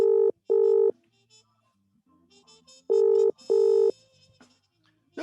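Telephone keypad tones beep in two quick pairs, loud and close, with quiet rustling and faint noises in the gaps between them.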